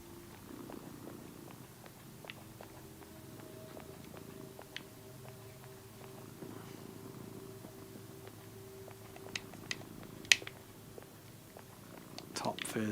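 A cat purrs softly in the horror game Tormented Souls 2. A quiet, steady purr continues throughout, with scattered clicks and a few sharper sounds near the end.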